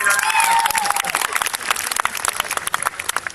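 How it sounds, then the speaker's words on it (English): Audience applause at a live improv comedy show, a dense burst of clapping that is loudest at the start, then thins slightly while continuing steadily, with cheering and crowd voices mixed in. "Please give a big round of applause to Darius and Darius."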